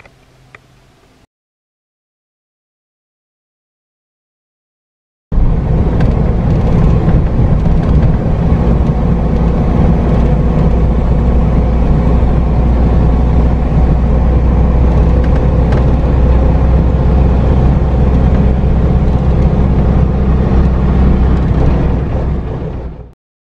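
A classic Ford Anglia E494A on a test drive, its engine and road noise a loud, steady drone after a brief quiet start, running continuously close by until it cuts off at the end.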